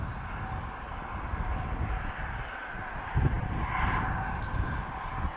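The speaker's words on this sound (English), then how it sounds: "Engines, nice and loud." Business jet with Rolls-Royce BR710 engines taking off, a steady loud roar of jet engine noise that holds throughout with a brief swell near the end.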